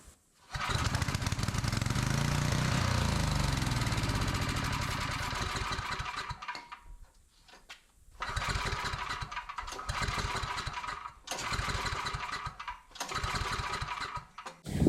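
A petrol generator with a difficult fault, choked and then started: the engine catches and roars loudly for several seconds, falters and nearly dies, then picks back up into an uneven, surging run, close by with no talk.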